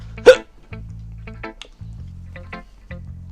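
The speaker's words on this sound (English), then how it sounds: "Bloody hiccups." Human hiccups, one loud sharp hiccup near the start followed by quieter, irregular short catches and breaths, close to the listener.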